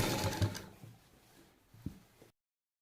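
A sewing machine stitches a halter neck blouse. A short, loud burst of running needle chatter is followed by a few soft mechanical clicks and taps before it falls silent.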